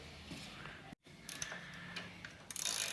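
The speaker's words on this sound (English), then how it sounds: "then we'll get the actual socket and tighten it down too" A socket wrench ratchets to tighten a crash slider bolt on a Yamaha R3 motorcycle, giving a few faint, close clicks and ticks over a quiet background.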